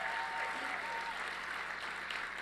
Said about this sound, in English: Give Gwen another round of applause